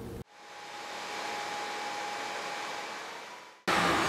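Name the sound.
Ridgid shop vacuum running through Dust Deputy separator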